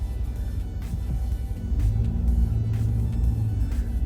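A car driving along a road heading west, heard from inside the cabin as a continuous low engine and road rumble that swells slightly partway through, steady and close without any talking.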